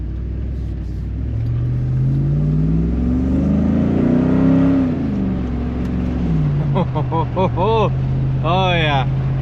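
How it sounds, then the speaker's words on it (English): A Dodge Ram 1500 with a 5.7L Hemi and custom cold air intake rumbles and revs up and down, swelling mid-clip, while someone talks over the engine. "the intake's definitely making some noise"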